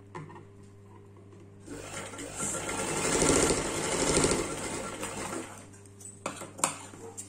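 Sewing machine stitching a shoulder joint in a fashion design class, a steady whirring run that builds from about 1.5 s, peaks mid-clip, then tapers into a few light clicks near the end.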